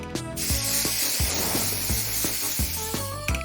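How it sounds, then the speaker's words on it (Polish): Purple spray paint hisses from an aerosol can in a steady, close, loud spray, broken by rattles and clicks from the can and faint background tones, with no talk. "Farba w sprayu będzie idealna."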